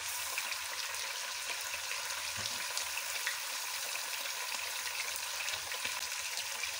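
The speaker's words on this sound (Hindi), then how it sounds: "हमने अपनी चिकन को गोल्डन फ्राई करना है।" Chicken frying to golden in a pan gives off a steady, even sizzle that holds for the whole stretch, with no voices over it.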